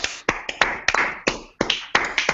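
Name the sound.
standing audience clapping for a man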